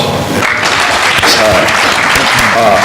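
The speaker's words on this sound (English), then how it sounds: "So give him a round of applause." Loud, dense audience applause at a media panel event, continuous hand clapping from a crowd for nearly three seconds.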